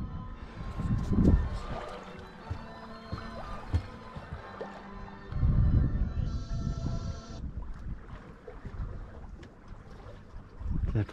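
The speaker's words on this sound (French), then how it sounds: "Et on entend la mer." Sea water sloshing and rushing around a sailing boat, steady and fairly close, with wind noise and louder surges now and then.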